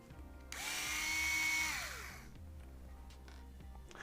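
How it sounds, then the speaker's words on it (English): A power screwdriver whirs briefly to back out the drive shaft screw on an Axial SCX10 III Base Camp RC truck axle, a rising then falling motor whine lasting about a second and a half, followed by soft handling clicks. "Going to remove the drive shaft screw."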